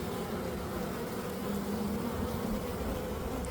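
Honeybees buzz in a close, dense, continuous drone while a hive is opened for an early spring inspection in Melbourne, steady throughout with no voices.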